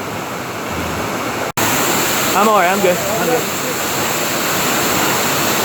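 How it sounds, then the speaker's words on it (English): A spectacular waterfall on a 20-acre property gives a constant loud rushing roar, with a person talking briefly over the steady water noise. "So we made it to the waterfall"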